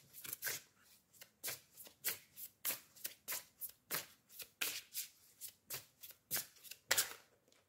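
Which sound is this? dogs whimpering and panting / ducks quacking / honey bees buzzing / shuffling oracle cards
shuffling oracle cards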